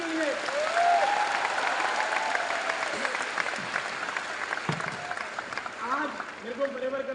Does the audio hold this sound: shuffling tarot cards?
no